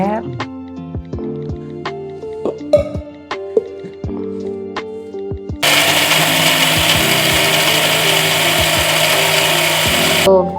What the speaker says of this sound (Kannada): ಮಿಕ್ಸಿಗೆ ಹಾಕೊಂತಿದ್ದಾರೆ